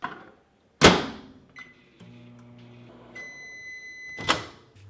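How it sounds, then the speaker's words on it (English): A microwave oven heating three potatoes: a loud door slam, button beeps, then a steady hum as it runs, followed by a ringing tone and another sharp thunk of the door. "I'll just simply put 3 potatoes in the microwave for 5 minutes."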